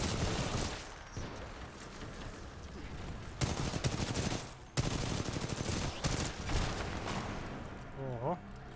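Rapid bursts of gunfire in the video game Titanfall 2, loud repeated shots and volleys with sharp cracks across the clip, while someone talks over the action.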